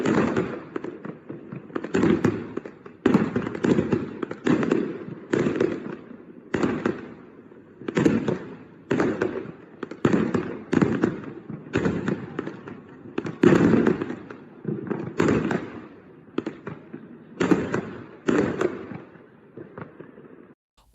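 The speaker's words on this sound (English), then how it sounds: "one man, surnamed Wang, lit and threw explosive firecrackers down upon them from the second floor of his residence, sending people scurrying for cover." Explosive firecrackers thrown from a second-floor residence go off in rapid, irregular bursts of sharp cracks and pops, continuing for a long stretch at moderate distance.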